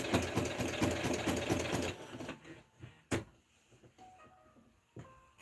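A sewing machine back-stitching denim near a rivet, running in a loud rapid rattling burst for about two seconds, then stopping, followed by scattered clicks and handling knocks.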